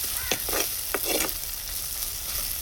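Onions frying in a pan for a fish dish give a steady sizzle broken by a few short stirring scrapes, close and moderately loud, with no talking.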